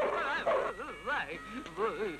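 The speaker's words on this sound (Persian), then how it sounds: "سگم دارن" A dog barks near a house in an old 1963 Iranian film, sounding as a few quick, yelping barks and whimpers spread across the moment at moderate distance.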